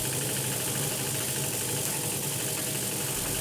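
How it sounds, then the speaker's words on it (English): Steady mechanical whirring and buzzing from a small electric motor and gearbox working the regulator and reversing on a Cock o' the North 00 gauge live steam locomotive, continuous and close with a faint rattle. "the regulator and also the direction of the loco is controlled by a gearbox and an electric motor"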